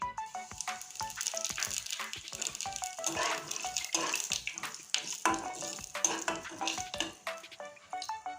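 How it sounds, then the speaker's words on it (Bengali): Nigella seeds crackle and spatter in hot oil for a fish and ridge gourd curry, a dense continuous sizzle with sharp pops and occasional utensil rattles, close and steady with no talk. "ফরনের জন্য নিয়ে নিয়েছি এখানে আছে কালো জিরে দিয়ে দিচ্ছি"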